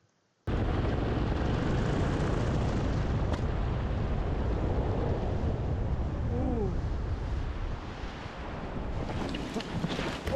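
Paramotor landing on the beach at Saint Joseph Peninsula, captured on a helmet camera: constant loud wind roar buffets the microphone, then a brief whistle-like sweep and some rustling come near the end.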